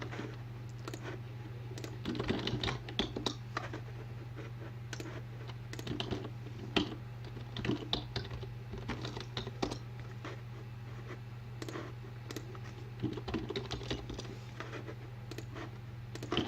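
Someone types on a computer keyboard while programming a lighting console, producing quiet, irregular bursts of key clicks against a steady low hum from the room or equipment, with no one speaking.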